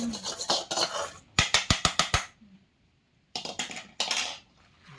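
A metal spoon stirs and scrapes semolina (rava) as it roasts in a pan: sharp clinks and scraping strokes come in quick clustered runs, broken by short silent pauses.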